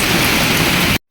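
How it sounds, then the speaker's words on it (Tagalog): Dense, steady hiss of heavy rain with a rushing, windy texture, loud and continuous, cutting off abruptly near the end. "Lakas ng ulan, no? May kasama pang hangin."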